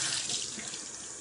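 Tap water running steadily into a sink while it warms up, a continuous hissing splash heard close and alone.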